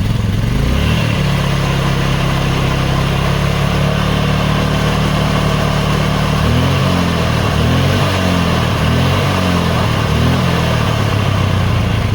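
A close, loud engine of a 1995 Polaris Magnum ATV idles steadily, then rises into a pulsing, lumpy rhythm as the idle is brought up.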